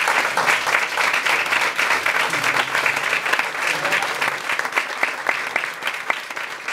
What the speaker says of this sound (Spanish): yo creo que debemos darle un aplauso